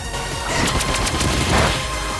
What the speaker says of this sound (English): Why does Jolteon have Pin Missile?